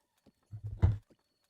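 A horse's hooves clip-clop in a short burst of a few steps in a Zelda video game, fairly close and otherwise quiet.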